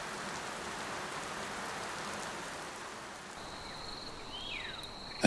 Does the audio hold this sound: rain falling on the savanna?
yes